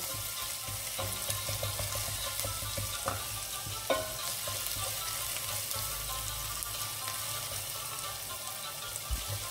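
Garlic paste and other ingredients for green chicken karahi are sautéed in a pan, a continuous close sizzle broken by a few sharp spoon taps and stirring scrapes, with no talk.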